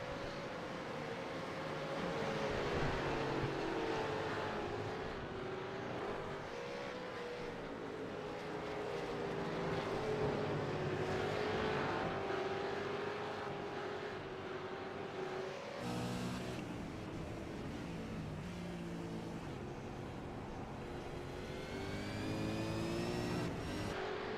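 Supercars race through a corner at the NZ Autumn Series, engines droning and shifting pitch as they pass, heard at a distance with a constant roar and no talking.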